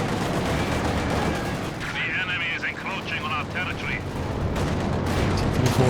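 Tank cannon fire and shells bouncing off armor in a Company of Heroes 2 multiplayer battle between T-34s and a Panzer IV, dense rumbling gunfire and metallic pings under continuous commentary.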